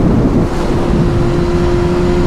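A Honda CBR 1000 stock motorcycle pulling hard in first gear, a loud steady engine drone with heavy wind buffeting on the microphone, close and continuous.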